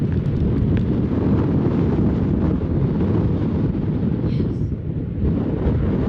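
Strong 35 mph wind buffets the microphone on a golf course, a constant loud roaring rush that barely eases over six seconds.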